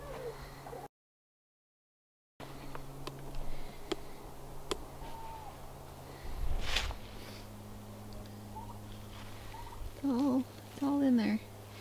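A couple of turkey gobbles sound near the end over a steady low hum, after a stretch of quiet background noise and a brief dropout.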